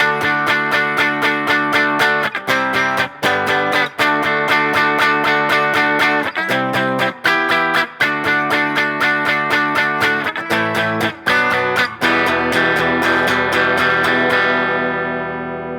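Electric guitar strums a song's chord progression through distortion and effects, in dense, loud, steady rhythmic chords with a bright, washy final chord ringing out.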